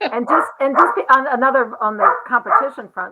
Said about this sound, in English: sorry about my barking puppy